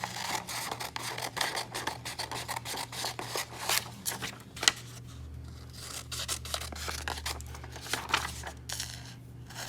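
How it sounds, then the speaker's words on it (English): Scissors snip and rub through paper while a graph is cut out, a steady run of close, crisp cuts and scratchy paper handling with a few sharper clicks, no voices. "So go ahead and just cut out the graph."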